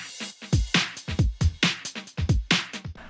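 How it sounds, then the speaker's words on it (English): Electronic music drum beat with punchy kick drums and a snappy snare in a steady, loud rhythmic pattern, heard alone without talk. "The most important ingredient for electronic music is most of the times the beat."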